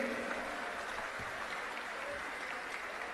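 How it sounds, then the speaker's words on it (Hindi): An audience at a gathering applauds in a steady, dense burst of clapping that fills the whole short moment at moderate distance. "एक बार जोरदार ताली इन सनातनियों के लिए बजाइए"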